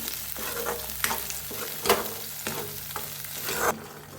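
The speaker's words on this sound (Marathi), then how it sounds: "आता भाजून घेऊया छान असं हलवून बघा भाजून घ्यायचं" Spiced masala roasting in a pan for a corn dish, with a steady close sizzle and recurring scraping strokes of a stirring spoon roughly every half second to second, no talking.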